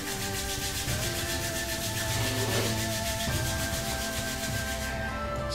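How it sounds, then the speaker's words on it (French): Hands rubbing gently together during a Wu Qin Xi (Five Animals) qigong practice, a steady soft swishing friction that runs continuously, close and even, with no talking. "On frotte gentiment les mains."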